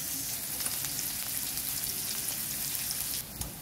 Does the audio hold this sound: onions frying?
yes